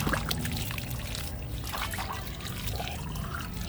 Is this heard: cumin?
no